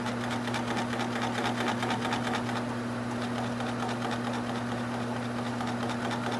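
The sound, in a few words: wood lathe spinning an alder bowl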